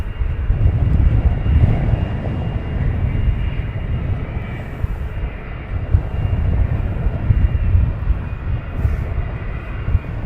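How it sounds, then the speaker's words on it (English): An EasyJet airliner departs Luton Airport, a continuous low roar of jet engines rumbling at a distance in strong, gusty wind. "So we have now the EasyJet departing."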